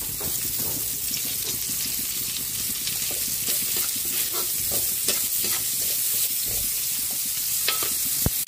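Garlic and onion sautéing in a hot pan for batsoy pork soup, a loud continuous sizzle with scraping stirs throughout, no voices.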